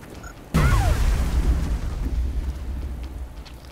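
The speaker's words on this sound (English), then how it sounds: "Grenade coming in." A grenade detonates in XCOM Long War with one sudden deep boom, followed by a long rumbling tail that slowly fades across the next few seconds.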